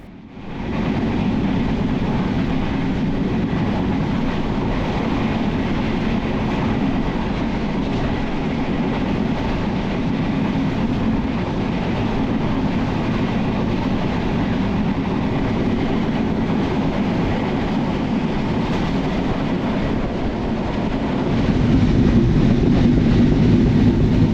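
The Banalata Express running from Rajshahi to Dhaka gives a loud, steady rumble with rolling clickety-clack, heard continuously from inside the train with no talk.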